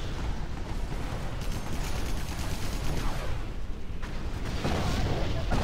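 Cannon fire and explosions from the Rise of the Reds real-time strategy game form a dense, continuous barrage of booms and blasts, loud and unbroken throughout.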